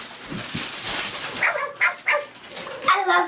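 A Hasbro Joy For All robotic companion pet dog gives a few short, bright electronic barks and yips close by, separated by brief pauses, with faint background sounds in between.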